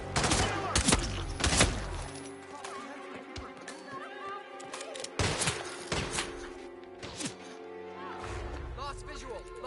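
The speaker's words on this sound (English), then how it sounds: "Those were gunshots!" Loud gunshots crack in bursts, several sharp reports close together amid shouting voices and a horse-like whinny.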